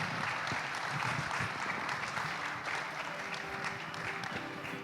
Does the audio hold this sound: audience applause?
yes